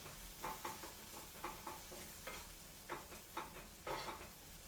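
Hummus mixture seasoned with fresh ground pepper being stirred by hand, soft scraping strokes at an irregular rhythm, several distinct swipes, quiet and close, with no talking.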